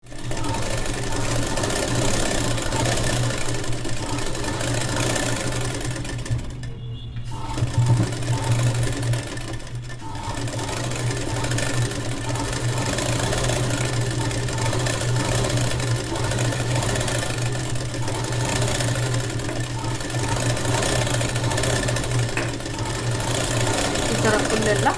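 A sewing machine stitches along the border of a long gown, a continuous rapid mechanical whirring and clatter running steadily close by, with someone talking over it throughout.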